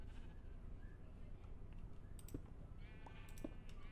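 Sheep bleating in the Minecraft video game, where a sheep stands by with shears in play: a few faint, short synthetic bleats toward the end, sitting under a steady low background hum.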